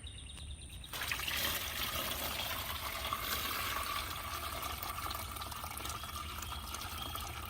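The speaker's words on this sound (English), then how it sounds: "I'm going to strain it through this green material into this pan here" Compost tea is strained through green material into a pan, making a soft continuous trickle and splash of liquid that starts after a second of quiet and keeps flowing steadily.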